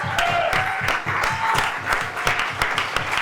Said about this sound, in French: Acclame Dieu pour la maman de Nikes.